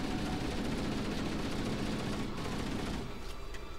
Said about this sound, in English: I'm just going to start shooting at you.